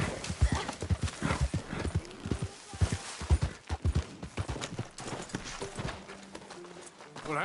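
In the Red Dead video game, a horse's hooves clop in a rapid, uneven rhythm, and the animal neighs and whinnies loudly and close up. The snorts and whinnies rise over the hoofbeats.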